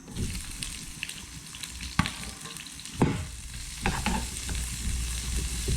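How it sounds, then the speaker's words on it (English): Steady crackling sizzle of onions frying in hot oil in a pan for a stir fry, with a few louder clanks and stirring scrapes breaking through the constant hiss. "Nice sizzling sound, make sure you hear that."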